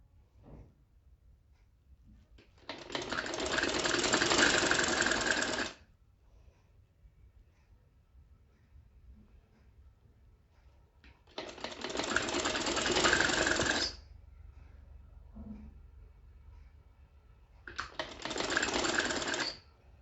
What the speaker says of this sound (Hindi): स्टिचिंग पूरी करते जाइए